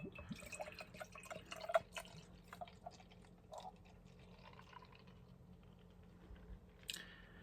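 Barrel-aged imperial stout with cacao nibs, Madagascar vanilla and cinnamon is poured into a glass, giving quiet close-up splashing, dripping and glugging with soft bubbling, and no talking.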